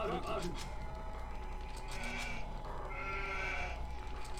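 Sheep bleat in the strategy game Age of Empires 2, a few short calls standing out over steady game background sounds and a voice talking.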